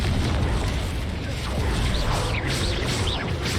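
Explosive Confringo spell blasts in Hogwarts Legacy combat, a dense, continuous rumble of booms and bursts with whooshing magical effects layered over the top, loud and sustained throughout.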